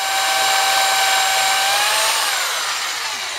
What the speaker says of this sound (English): So I'll just get drilling.